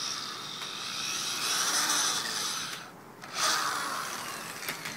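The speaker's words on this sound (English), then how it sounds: "we're going to drill the end cap so that we can put the eye screw in there" A steady whirring drill bores into an end cap close by, stopping briefly partway through and then starting up again, with no voices.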